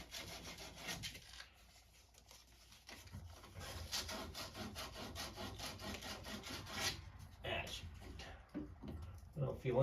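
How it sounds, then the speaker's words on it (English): Repeated scraping strokes of abrasive against a water pipe, steady and close, with brief pauses between bursts of rubbing. "My pipe's pretty clean, but I'm gonna give it a little sanding too"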